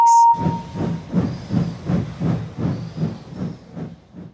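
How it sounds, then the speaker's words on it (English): A steam locomotive chuffs in a steady rhythmic beat with hissing steam, opening with a brief whistle tone. "the steam engines greeted him with rapturous whistles and cheers."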